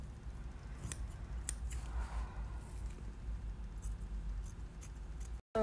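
Scissors snip through fabric while a Russian shirt front (stolbik/prepolak) is cut, giving several sharp, close snips over a steady low background hum, with the sound breaking off abruptly at the end.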